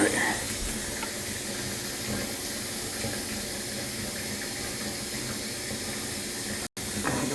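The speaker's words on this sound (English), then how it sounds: "Get some water in there and try it now." A kitchen faucet runs water into the sink in a steady, close hiss that continues almost unbroken, cutting out briefly near the end before resuming.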